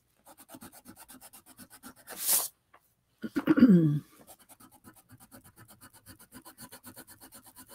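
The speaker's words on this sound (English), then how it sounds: "Sharpening again." Pencil sharpener grinding a colored pencil during a drawing session, a loud scraping burst of about a second followed by a second, lower rasping burst, with steady rhythmic scratching of pencil on paper before and after.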